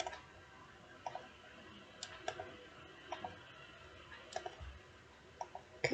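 Computer mouse clicks come in sharp, quiet, isolated ticks, often in quick pairs, spread irregularly across a near-silent background.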